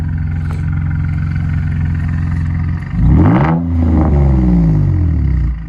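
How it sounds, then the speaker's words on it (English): Infiniti G35 with a VQ V6 and catback exhaust idles, then revs sharply around the three-second mark with rising and falling harmonic sweeps, a loud close blip followed by a second rev, with no talk. "And it is already warmed up, so we could rev it right now."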